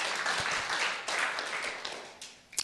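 A church congregation applauds, a moderate burst of clapping that tapers off unevenly, with a few sharp claps near the end.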